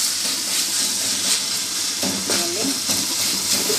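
Tomatoes with a little salt cook down in a pan for kadai paneer curry, giving a continuous soft sizzle and steamy hiss with occasional faint stirring scrapes.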